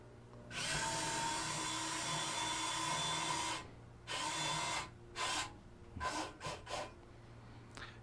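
The motor of a 1/10 scale RC semi's wheel lift lowering: a faint, whirring electric servo drone runs for about three seconds, then repeats in shorter bursts and quick stuttering pulses over a quiet background hum.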